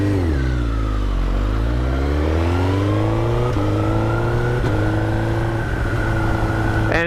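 Suzuki GSX-R 1000 K5 motorcycle with an HM Plus quickshifter, engine pulling hard and loud up close, revs climbing then dropping sharply at each of several quick upshifts around 3,000 RPM, continuous roar throughout.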